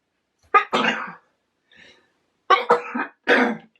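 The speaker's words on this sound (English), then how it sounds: "Excuse me, another sneeze." Two bursts of close, loud sneezing or coughing separated by a short pause, each a quick cluster of sharp explosive expulsions.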